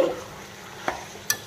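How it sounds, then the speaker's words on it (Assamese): Chicken frying in a pan with masala, salt, turmeric, cumin, coriander and meat masala: a brief low sizzle broken by two sharp scraping clicks of stirring, up close. "অকণমান দেৰি এইখিনিতে ভাজি ল'ম।"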